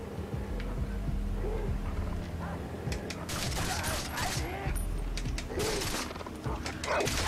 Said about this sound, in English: I can hear a tiger.